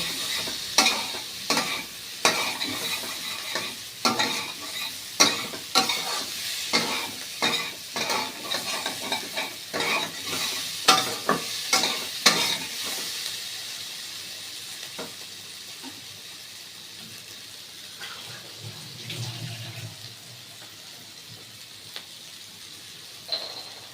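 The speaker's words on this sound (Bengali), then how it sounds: "ভালো করে কষিয়ে নিব" Spices for an egg bori curry sizzle in a hot pan while a spatula stirs and scrapes them in quick repeated strokes. The frying hiss fades toward the end as the stirring stops.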